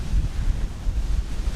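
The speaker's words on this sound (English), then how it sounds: "it's starting to actually get real windy out here" Strong wind in Minsk roars and buffets a microphone in a steady, low rumble with gusty surges, loud and close, with no voices.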